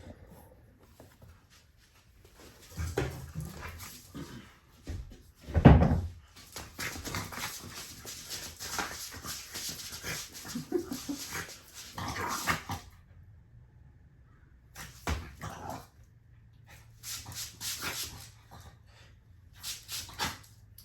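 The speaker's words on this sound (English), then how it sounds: "Look at this crazy dog." A dog whimpers and growls in scattered bursts, fairly quiet and close, with brief rustling and knocking sounds between the outbursts and no talking.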